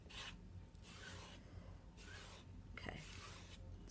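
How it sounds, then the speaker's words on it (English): Soft, close scraping swipes of a squeegee pulling glitter paste across a silk screen stencil, several faint rasping strokes with pauses between them. "And then I'm gonna pull this across my silk screen."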